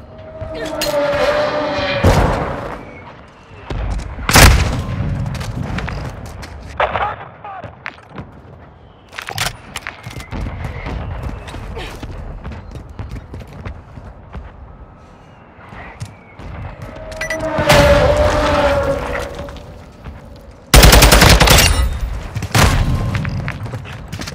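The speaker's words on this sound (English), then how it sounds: "launched a mortar strike. Find cover!" In Call of Duty: Modern Warfare II, a mortar strike lands with heavy booms and thuds, mixed with bursts of gunfire and sharp cracks. The blasts come irregularly and loud, with a louder impact near the end.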